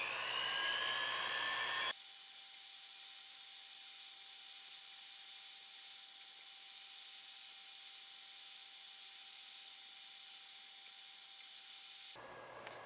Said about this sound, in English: I'm going to use one of the rotary bristle pieces to clean it up